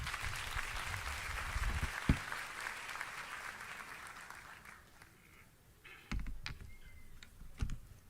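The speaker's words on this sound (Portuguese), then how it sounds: "vamos recebê-lo aqui com aplauso" Church congregation applauding to welcome a pastor, a soft, fairly distant wash of clapping that fades away midway, followed by a few scattered, closer taps and knocks.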